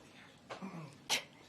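A single short sneeze, sharp and close, follows a softer throaty breath sound, with no talking, in a White House press briefing room.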